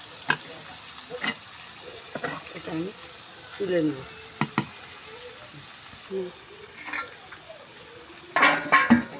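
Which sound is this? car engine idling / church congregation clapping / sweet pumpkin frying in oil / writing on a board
sweet pumpkin frying in oil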